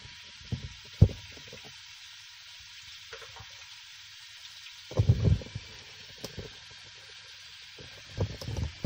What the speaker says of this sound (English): all this noise comes from the pump